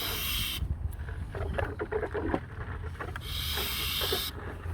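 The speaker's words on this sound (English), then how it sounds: "I'm going to still pump a little bit just to see if it helps it along." A MITY oil extractor is hand-pumped during an oil change on a 2016 Range Rover Sport L494 with a 3.0L supercharged V6, making steady hissing suction strokes with faint rhythmic creaks, close and continuous, with no talking.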